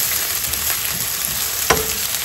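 Garlic and onion stir-fry over high heat, giving a steady close sizzle with a brief clatter of stirring partway through; no voices.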